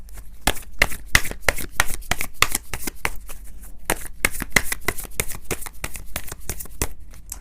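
Tarot cards shuffled by hand in a quick, steady run of crisp riffling slaps. The sound stays close and fairly loud for the whole stretch, with no talk.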